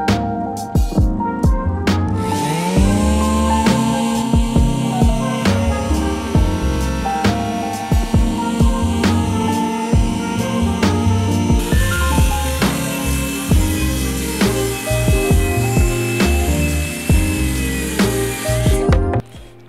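A power sander works over a wooden coffee cart, buzzing steadily and close for a long stretch with scraping, rubbing grit noise and small knocks as it moves across the wood.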